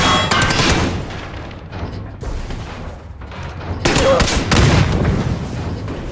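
Bursts of rapid gunfire and a grenade blast in PUBG, loud and dense, with volleys of shots stacking in several waves and a heavy boom near the end; no talk.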